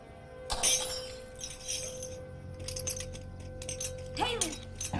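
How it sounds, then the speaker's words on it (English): A drinking glass is knocked over indoors and shatters in one loud, bright crash, followed by scattered tinkling fragments and a voice under a low background hum. "I knocked over my glass."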